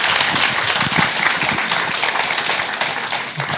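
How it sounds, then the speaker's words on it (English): A forum audience applauds panel speakers at the close of a morning leadership session, loud, steady clapping from a full room, continuous throughout with no break. "Please, can we have a round of applause for today's speakers?"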